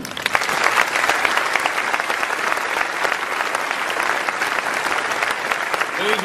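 An auditorium audience applauds steadily and loudly for the full stretch, a dense wash of many hands clapping with no pause.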